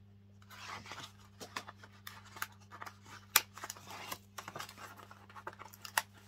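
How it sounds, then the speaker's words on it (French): Scissors snip through paper in a series of uneven crisp cuts with short pauses, close by, over a steady low electrical hum. "on va couper notre papier avec la grande surface en premier"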